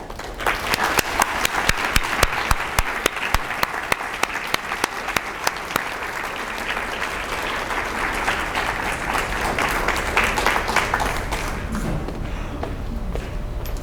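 An audience breaks into sustained applause to welcome a speaker onto the stage before an evening presentation, steady dense clapping with a few sharper near claps, fading slightly toward the end.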